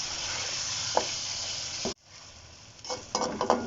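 A biryani base frying in a pot, heard as a steady dense sizzle with a couple of stirring clanks, then a sudden drop and a quieter hiss broken by fresh scraping stirs near the end.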